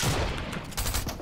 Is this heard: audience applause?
no